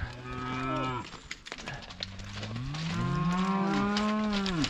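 Heifers moo in a field, several long, loud, close calls overlapping one another against faint outdoor background.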